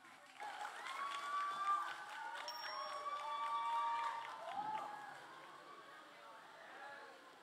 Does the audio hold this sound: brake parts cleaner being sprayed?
no